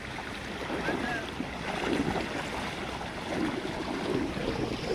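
Roaring floodwater of a river swollen by heavy rain, forming a large whirlpool near a village; a continuous rushing, churning roar with wind buffeting the microphone, steady and fairly loud throughout.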